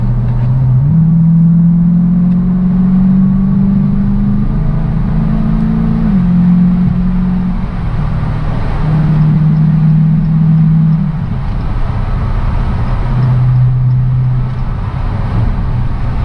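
An amusement ride vehicle hums with a loud, steady low motor drone that rises and shifts pitch in stepped surges as it gathers speed, with no talk over it.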